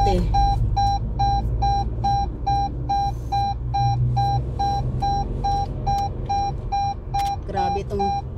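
A car's seatbelt warning chime beeps steadily and repeatedly at a fixed pitch, loud and close inside the cabin, over low road rumble with someone talking.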